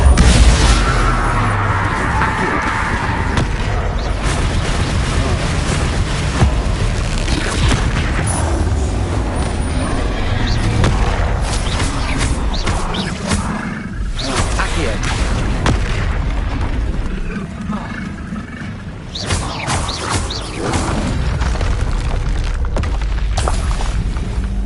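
Bombarda spell explosions in the Hogwarts Legacy video game, loud deep booms and crashes going off repeatedly across the stretch, dense with game effects and a voice speaking over parts of it.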